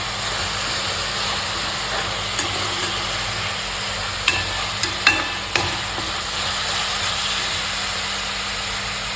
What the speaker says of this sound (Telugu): చూసారా ఆనియన్స్ అయితే బాగా వేగుతాయి కదా